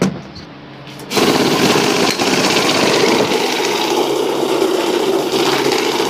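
A battery-operated cash counting machine starts up after a second of quiet and runs loudly and steadily, a close continuous mechanical whir with no speech.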